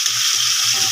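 Onions sizzle in hot spiced oil in a pan, a loud, close continuous frying hiss with low rhythmic stirring scrapes underneath.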